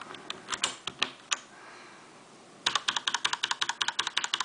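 Typing on an MK-80 mechanical keyboard with red switches: a quick burst of key clicks, a brief pause, then a fast, steady run of close, crisp keystrokes.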